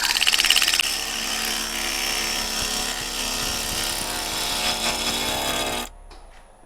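A woodturning lathe with a tool making shaping cuts on a closed-form piece gives a steady, loud, broadband scraping whir for about six seconds, then drops to a quiet hum.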